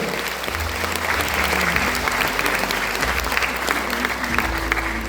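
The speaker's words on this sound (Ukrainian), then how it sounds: "ваші оплески" Audience applause at a Ukrainian Easter folk art festival honoring a pysanka artisan, with broad steady clapping from a crowd across the whole stretch, some low hum and background murmur underneath.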